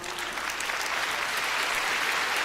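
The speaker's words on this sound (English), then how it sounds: "A round of applause for Professor" Warm applause from a conference audience for a professor at an education and leadership congress in Nairobi, a dense, steady wash of clapping heard at a moderate distance.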